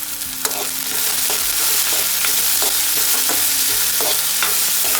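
Food fried for a Gujarati winter vagharelo rotlo, stirred in a pan. Regular scraping strokes of the spoon sound over a constant loud sizzle, close by, with no talking.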